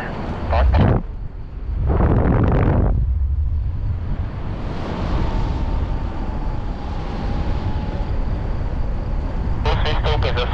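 Steady wind buffets the microphone in a continuous roaring rumble at a paragliding training site in Meduno, with voices speaking briefly at the start and end over the blustery noise.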